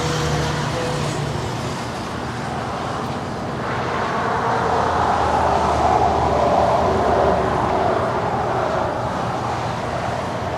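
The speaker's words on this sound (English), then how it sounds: "This is Emirates 216 departing to Dubai. It's an A380." An Emirates Airbus A380 departs LAX bound for Dubai: a broad, continuous jet roar that swells through the middle and holds, heard from a distance with no voices.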